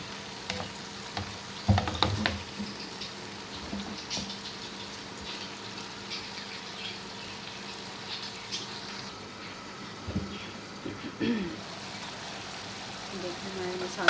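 Tomatoes and masala are frying in a pan for saag kofta. A low, steady sizzle is broken by occasional clattering stirs and spoon knocks, with a few louder bursts, and faint talking can be heard at times.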